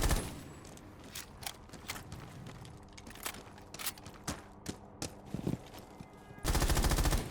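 Gunfire in the video game Rainbow Six Siege, with weapons shooting holes through walls: sharp shots in irregular bursts and single cracks, ending in a louder, steady rush of noise.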